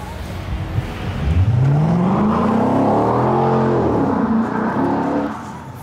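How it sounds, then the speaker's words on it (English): A car drifts on a public street in Riyadh, Saudi Arabia, its engine revving hard and climbing in pitch, loud and close, holding a sustained roar for several seconds. "I'm confronted with illegal drifting on public streets"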